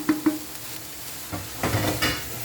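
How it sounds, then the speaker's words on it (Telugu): Sandwich filling fries in a pan for a baby bread sandwich, with a few close spoon taps and scrapes over a soft sizzle in a short, quiet stretch with no talking. "ఇలా బాగా కొద్దిసేపు ఫ్రై చేద్దాం."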